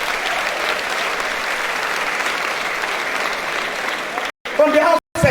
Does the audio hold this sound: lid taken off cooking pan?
no